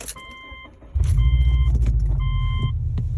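A 2006 Subaru Outback engine starts about a second in and settles into a steady, close idle rumble, with periodic electronic chimes from the dashboard over it.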